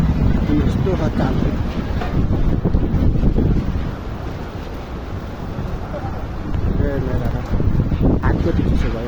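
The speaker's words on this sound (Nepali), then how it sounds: "यस्तो पानीभरि यति ठुला असिना लगायो यो घुमरी लगायो घुमरी कति चल्छ" Strong storm wind on the Ghyampe Danda hilltop, roaring and buffeting the microphone as a loud, continuous low rumble, with faint voices buried beneath it.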